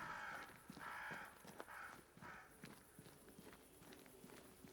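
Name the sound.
crows cawing in video game Banishers: Ghosts of New Eden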